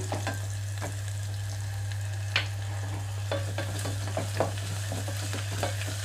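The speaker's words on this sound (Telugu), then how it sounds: "ఇప్పుడు ఇందులోకి అల్లం వెల్లుల్లి పేస్ట్ వేసుకుంటున్నాను" Ginger garlic paste frying with half-cooked onions in a pan for a raw banana curry, a steady sizzle under intermittent clicks and scrapes of stirring, close and continuous with a low hum behind.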